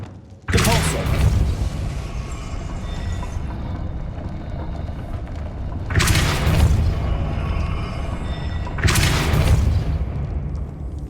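Depulso spells cast in Hogwarts Legacy: three loud whooshing blasts that each start abruptly, the first near the start and the other two a few seconds apart, over a constant rumbling background.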